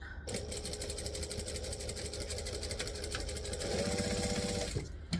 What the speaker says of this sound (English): open this out, top stitch on both sides to hold it flat